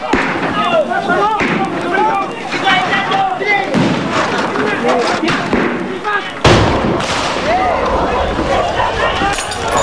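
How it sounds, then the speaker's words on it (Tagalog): Repeated booming blasts and sharp cracks go off in quick succession at a barricade during a clearing operation, loud and close, with voices shouting faintly amid the chaos. "magkakasunod na pagsabog na ang aming narinig at nakita"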